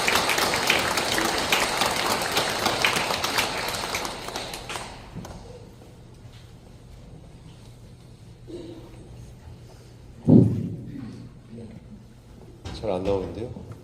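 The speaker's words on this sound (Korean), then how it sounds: "큰 박수로 모시겠습니다" Audience applause welcoming a priest speaker at a parish Lent lecture in Byeongjeom church, a short burst of clapping that fades after a few seconds into near silence with scattered taps and thumps.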